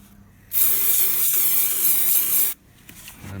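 Aerosol spray paint hisses onto a custom RC car body for a second coat in one steady, close burst lasting about two seconds, alone with no talking.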